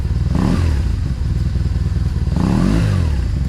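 BMW R1200C motorcycle engine cranking and catching, a loud close start with a rough bursting idle and a second surge of revs a few seconds later, no talk.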